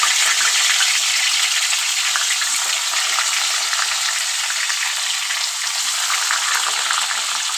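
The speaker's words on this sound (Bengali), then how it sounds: "চলো এবার মাছটা ভেজে নিই।" Koi fish frying in hot oil in a wok, a loud continuous hiss and crackle of sizzling that holds steady throughout, with no talking.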